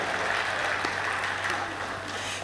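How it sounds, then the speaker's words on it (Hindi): At a Hindi comic poetry gathering (kavi sammelan), the audience claps in a continuous, even wash of applause with no gaps across the short stretch. "तालियां बजा दीजिएगा।"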